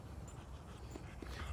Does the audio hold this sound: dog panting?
yes